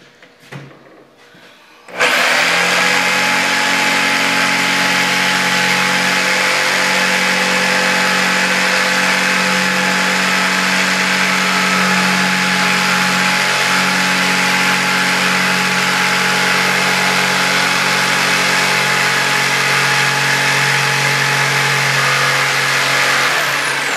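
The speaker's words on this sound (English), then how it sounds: "I remember why I don't like this jigsaw." A jigsaw with a faulty chuck and a wandering blade cuts a boat coaming bolster for a Sea Ray Sundancer. After a brief quiet start it kicks on into a loud, steady motor whine that holds for about twenty seconds.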